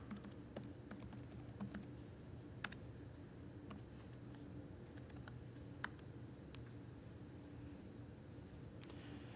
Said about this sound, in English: I'm actually going to type in my username and my Active Directory credential